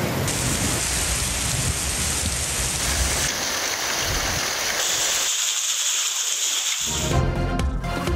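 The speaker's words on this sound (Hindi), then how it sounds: "कराची में बादल बरस पड़े।" Rain falls in Karachi with a steady hiss of drops on surfaces, dense and continuous, with the texture shifting partway through as if heard from different spots.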